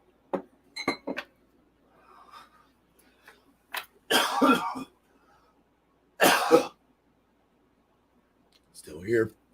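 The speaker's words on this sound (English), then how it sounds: "Just didn't want to cough in your ear" Several muffled coughs in separate bursts, close but fairly soft, with faint clinks of glass or cutlery between them.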